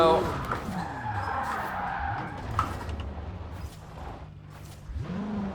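Ferrari 488 Pista in Forza Horizon 4 sliding out of control, engine revs swooping up and down with tire skid noise, while someone talks over it.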